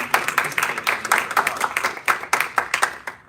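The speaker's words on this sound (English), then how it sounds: "let's just give an early hand of applause to everyone who participated in" Applause from a room audience at a college moot court final, honoring the participants: a dense, steady patter of many hands clapping together, fairly close and continuous, with no voices over it.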